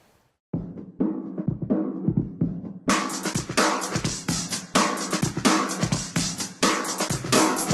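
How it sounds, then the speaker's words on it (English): A breakbeat built from existing breakbeats pounds out punchy kicks and crisp snares, starting with a filtered, muffled intro before opening into full-range, loud drums with dense hi-hats, mixed alongside chords. "Then I have this breakbeat, which I made before from existing breakbeats"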